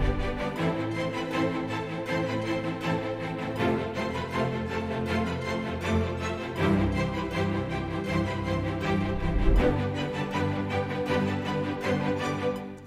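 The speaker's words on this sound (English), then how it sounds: "We've got the staccato strings that will sound like this." Staccato strings in a trailer music composition, a dense orchestral texture of short, driving bowed notes over low sustained layers, pulsing steadily for several seconds with shifting harmony and a swell near the end.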